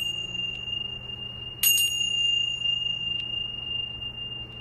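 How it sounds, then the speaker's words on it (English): A single bright chime rings out and shimmers briefly, over a steady high whine and quiet room hum, with a couple of faint taps around it. "Get my chimes."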